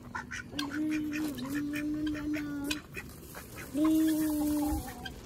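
Ducks quack near the microphone in a yard alongside peacocks and a hen, two long nasal calls with a pause between, over light background noise and no clear talk.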